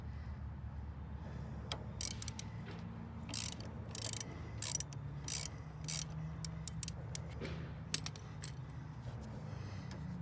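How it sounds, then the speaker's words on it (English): T30 Torx tool loosening a bolt on the chrome hand and foot controls of a BMW R 18 motorcycle, giving a series of quick, crisp ratcheting clicks in short bursts over a low steady background hum. "And then this is a T30 30 Torx."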